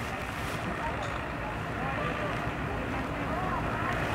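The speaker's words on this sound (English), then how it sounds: "He's got the engines on." Boat engines running at a boat ramp during a launch, a steady low rumble mixed with wind noise on the microphone, continuous and fairly loud throughout.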